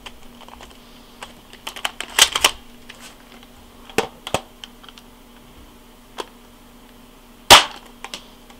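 Tokyo Marui UZI spring airsoft gun fires pellets in sharp, isolated cracks with faint mechanical clicks and handling ticks between them, the loudest snap near the end, in a quiet room.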